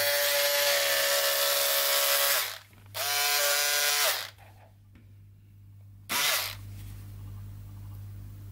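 Electric scissors cut through four layers of cotton fabric in three bursts: two steady buzzing runs with a short pause between, then a gap and a brief final buzz, close and fairly loud with no talking.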